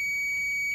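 A multimeter's continuity buzzer sounds as probes touch points on a motherboard during chip-level repair testing, giving a steady high-pitched tone that holds for under a second.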